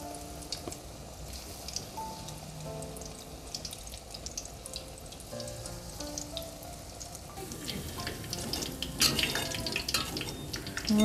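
Corn fritters frying in hot oil in a home kitchen, a steady crackling sizzle throughout that grows busier and louder toward the end, with no voices.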